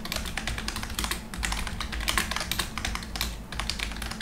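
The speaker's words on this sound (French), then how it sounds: "Donc bien évidemment c'est un clavier à membrane" Quick, steady typing on a membrane keyboard, soft muffled key presses in a continuous run, close up and fairly quiet.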